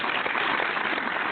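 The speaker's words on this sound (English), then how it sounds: "Let's applaud them." Applause from participants of a barbershop talk radio show, a dense continuous patter of clapping that stays steady and fairly loud throughout with no voices.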